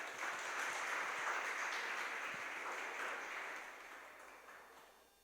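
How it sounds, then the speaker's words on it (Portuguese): Church congregation applauding to welcome the pastor: a broad wash of many hands clapping, strong at first and then gradually fading away toward the end. "Vamos dar um aplauso bem forte a receber o pastor Luiz."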